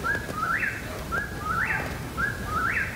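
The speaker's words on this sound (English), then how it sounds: "Turns out that is a real-life bird called a whi-poor-WILL, named after its strange sound." A whip-poor-will's call from the game Breath of the Wild: three clear repeated whistled phrases, each a rising slurred note followed by a sharper upswept note, evenly spaced at moderate volume over faint background hiss.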